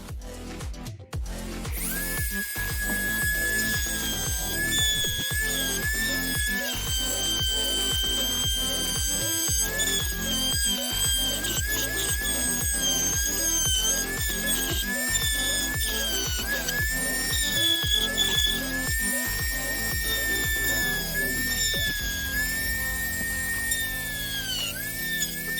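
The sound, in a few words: power tool cutting out marked areas of a model kit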